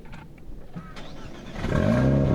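A Renault Mégane RS Trophy is started: quiet movement and a brief starter whir, then the engine catches and settles into a loud, steady idle close by.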